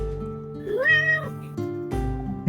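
A human voice imitates cat meows with a drawn-out, rising and falling mewing cry over a sustained musical drone, followed by shorter vocal sounds near the end.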